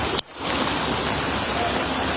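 Strong floodwater current rushing across a flooded road at the Marilao crossing in Bulacan, a loud steady roar of churning water after a sharp knock at the start, with no voices.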